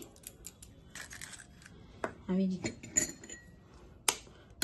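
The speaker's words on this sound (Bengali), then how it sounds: "এবার আমি ডিমটা এর মধ্যে দিয়ে দেবো ফাটিয়ে" Eggs are cracked into a bowl for an oven-free Christmas cake, with a couple of sharp shell taps and clinks against the rim amid light handling of kitchenware, quiet and close.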